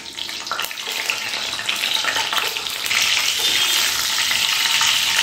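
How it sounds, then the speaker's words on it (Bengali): Eggs frying in hot white oil in a wok for egg korma give a bright, crackling sizzle that grows louder and fuller partway through. It is heard up close, with no one speaking. "তখন এর মধ্যে ডিমগুলো দিয়ে একটু ভেজে নিতে হবে।"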